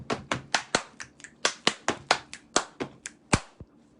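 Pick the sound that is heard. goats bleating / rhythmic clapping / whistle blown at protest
rhythmic clapping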